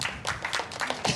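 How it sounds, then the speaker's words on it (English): An audience gives Bruce a short round of claps, with a handful of bright, fairly close hand claps in a quick, uneven run. "Oh, give Bruce a clap"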